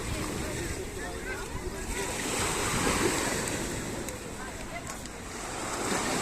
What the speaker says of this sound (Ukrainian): Хвилі дуже високі, дуже міцні.